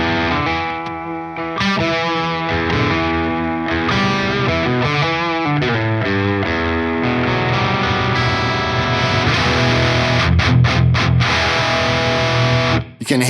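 Electric guitar through a Friedman IR-X twin-channel valve preamp as the guitar volume is rolled back, moving from gritty overdriven chords to a cleaner, brighter tone, with strummed chords and short muted stabs, loud and close, no talking.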